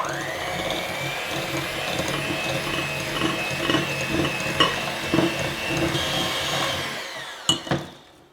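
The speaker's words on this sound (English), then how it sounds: "let's cream these two ingredients together with a hand mixer" A handheld electric mixer whirs steadily while creaming butter and sugar in a bowl for banana bread, a continuous close motor drone that shifts slightly in pitch before cutting off, followed by a couple of clacks near the end.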